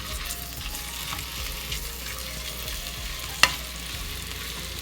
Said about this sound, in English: Can you hear the sizzle already?